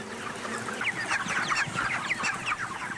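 A crowd of chickens in a poultry shed cluck and chatter continuously at moderate distance, with overlapping short calls over a steady background hum.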